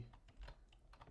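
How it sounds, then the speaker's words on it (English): Rapid, light clicking of keys on a computer keyboard, a short close burst of irregular taps, quiet and without speech. "Excuse my typing."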